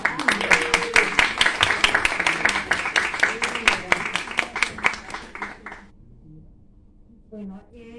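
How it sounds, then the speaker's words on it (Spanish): An audience at a book presentation claps for a family in the room, producing a few seconds of crisp, fairly sparse hand claps that fade out before a voice speaks briefly. "un aplauso para la familia"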